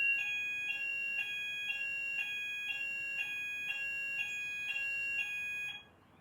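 A building fire alarm sounds a loud, steady electronic tone pulsing in regular beeps about twice a second, continuing for several seconds before cutting off abruptly near the end.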